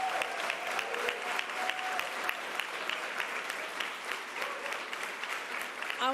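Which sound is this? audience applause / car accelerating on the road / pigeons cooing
audience applause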